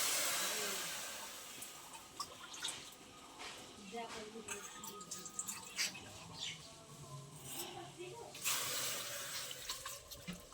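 Water poured into a bowl of chopped raw mango for jelly, a running splashing stream with small clinks, close by, under a woman's speech.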